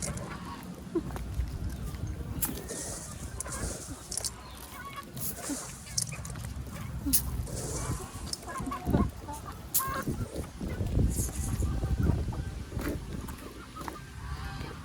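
Chickens clucking and squawking close by, with geese or ducks honking among them, a busy, continuous flock of calls amid outdoor rustling.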